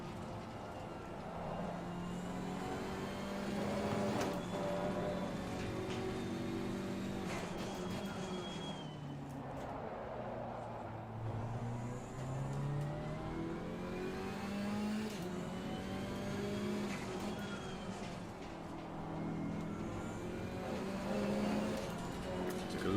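A GT race car laps Brands Hatch in a racing simulator, its engine droning and climbing through gears with repeated revving swells and downshift dips, loud and continuous for the whole stretch, no talking.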